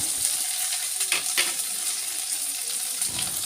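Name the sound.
egg with turmeric, salt and coriander frying in pan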